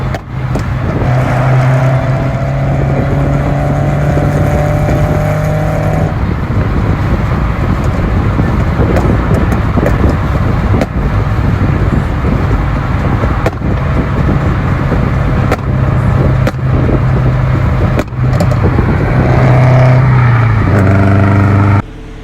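A Honda Civic Hatchback Sport or Scion FR-S drones steadily from inside the cabin while driving, with loud wind and road rumble and a rise in revs near the end.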